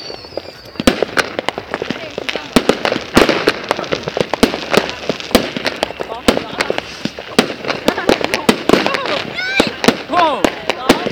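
Fireworks and firecrackers going off in a 2016 celebration, a dense run of sharp bangs and crackling pops in rapid irregular bursts, loud and close, with voices and shouts mixed among the blasts.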